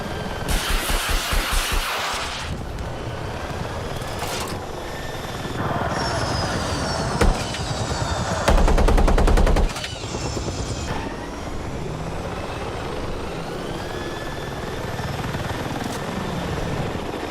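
Helicopter in Battlefield 6 flying, a loud continuous rotor and turbine roar with shifting whine tones, a brief heavier thumping stretch midway, no talking over it.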